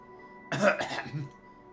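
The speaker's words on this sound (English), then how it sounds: "And you're clearing your throat." A single short throat clearing from a character in the bartending game Va-11 Hall-A, a brief rough burst with a soft tail over a steady faint game music hum.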